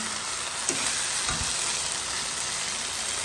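Eggplant frying in a pan sizzles steadily at close range, with a few scraping clicks and soft knocks of a utensil stirring the dish.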